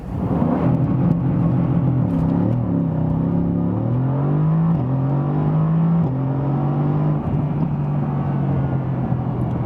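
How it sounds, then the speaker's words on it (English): A 557 hp Mercedes-AMG GT C Roadster launches hard from a standstill, its engine roaring loudly and climbing in pitch through a series of quick upshifts, then holding a steady high-speed note. "I'm hammering the brakes with my left foot and hammering the throttle with the right, and then release the brake"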